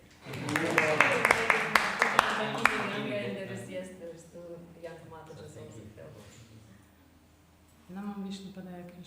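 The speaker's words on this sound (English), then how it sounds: "Also, a round of applause for Gopika's cake." A temple audience gives a brief round of scattered hand claps at a live gathering, mixed with talking, then speech continues alone.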